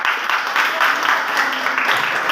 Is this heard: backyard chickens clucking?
no